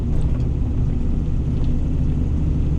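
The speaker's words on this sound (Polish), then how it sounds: "od razu wyciągnąłem samochód i właśnie sobie jeżdżę" A car driving and drifting on a snowy village lot gives a steady low engine rumble, close and continuous, with no voices.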